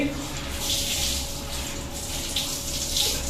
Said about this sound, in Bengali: এই তো জামা কাপড় ধুচ্ছি